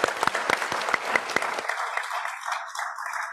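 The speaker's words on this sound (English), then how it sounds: "Can we have a round of applause for our three speakers?" Audience applause for three speakers at a panel conversation, a short burst of brisk clapping that fades out after about a second and a half, leaving a faint lingering tone.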